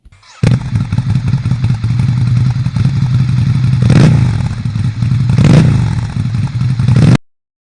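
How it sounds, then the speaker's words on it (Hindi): A motorcycle at night sputters with a rough, loud engine running close by, broken by clattering and scraping thuds, then cuts out abruptly into silence near the end. "अचानक से उसकी बाइक बंद हो जाती है।"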